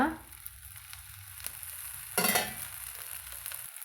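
Wheat flour flatbread frying in a pan with oil poured around it: a continuous close sizzle that swells into a louder crackling burst midway, then settles back to a steady fry.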